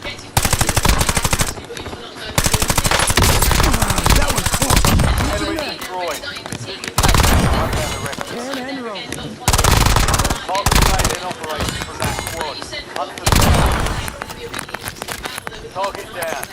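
Video game machine-gun fire: loud, close bursts of rapid automatic shots, with gaps between them and someone talking over the action.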